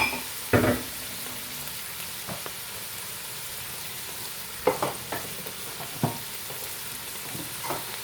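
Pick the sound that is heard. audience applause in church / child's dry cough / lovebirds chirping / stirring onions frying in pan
stirring onions frying in pan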